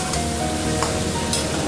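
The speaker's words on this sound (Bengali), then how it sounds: "এটা একটু ভাজা ভাজা করে মেহুর জন্য স্পেশালি আজকে বানাতে এসেছিলাম" Vegetables frying in a pan with onion, cumin paste and ginger paste give a steady, close broadband sizzle with a few faint clicks of stirring, no voices.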